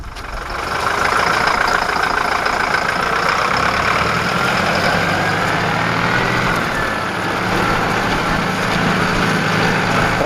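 A steady, loud Valtra A104 tractor engine rumbles continuously as the tractor drives, with a broad mechanical drone and no voices.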